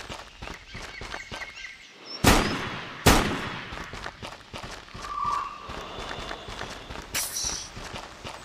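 Two sharp, loud gunshots crack out about a second apart in the Terrorist Takedown: War in Colombia shooter, over a background of running footsteps and faint ambient game sounds, followed by a brief high whistle.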